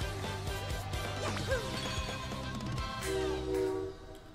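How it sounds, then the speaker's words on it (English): In-game train from Paper Mario: The Thousand-Year Door rumbling past in a forest area, with a sustained horn tone near the end over layered game music and clattering effects. "Of course, a frickin' train has to be going by."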